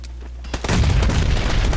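Gunfire erupts in the battle royale video game PlayerUnknown's Battlegrounds: a sharp blast, then a loud, sustained roar of shots and booms close by.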